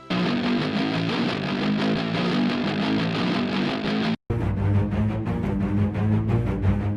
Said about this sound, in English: Here I have an electric guitar, and next to it I have some low orchestral strings playing the same notes